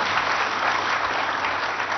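Steady, dense applause from a large audience at a political speech, loud and unbroken throughout with no voices over it.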